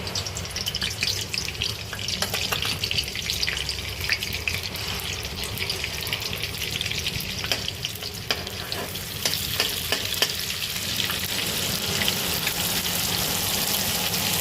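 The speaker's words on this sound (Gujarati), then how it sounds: "બટર ને તેલ બી નાખશું." Butter and oil fry in a pan for pav bhaji, giving a close, steady sizzle with stirring scrapes and a few clinks, running continuously without talk.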